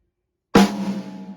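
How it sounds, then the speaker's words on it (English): A single sharp snare drum hit from a Ludwig Questlove Break Beats kit, close and loud, with a bright crack followed by a ringing decay. "The snare drum."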